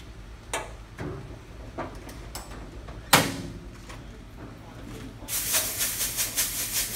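Compressed air blasts debris off a car polishing pad while a Corvette's trashed clear coat is corrected. Short sharp hisses come first, then a louder sustained rushing burst near the end, with no voices.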